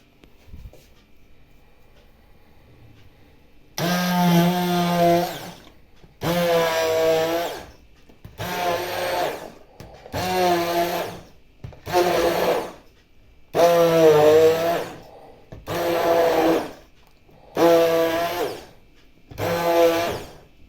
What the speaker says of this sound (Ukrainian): в моєму випадку це буде погружний блендер